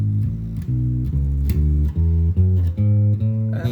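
Bass guitar runs fluently up and back down a song's scale, a steady series of round, low plucked notes in even rhythm, close and clear with no voice.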